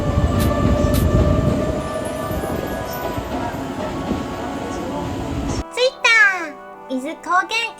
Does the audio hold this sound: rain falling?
no